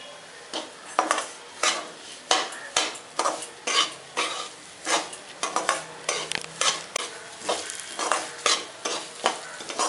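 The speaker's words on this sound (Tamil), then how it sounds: "இந்த நெய்யில் பொரியல ரவை இந்த மாதிரி பொரியணும்" Semolina (rava) roasts in ghee for kesari, a spoon scraping and stirring it in a rhythmic series of short strokes against the pan over a soft sizzle, close and clear.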